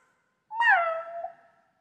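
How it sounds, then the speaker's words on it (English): A single drawn-out cat meow, loud and close, rising then gently falling over about a second, with nothing else around it. "A cat!"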